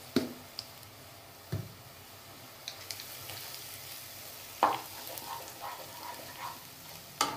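Homemade ginger paste sizzles in a pan with onions while cooking an egg and drumstick curry; a steady, close frying hiss is broken by occasional clicks and scrapes of stirring.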